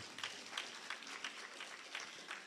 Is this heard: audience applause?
yes